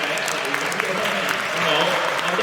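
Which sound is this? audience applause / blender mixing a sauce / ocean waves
audience applause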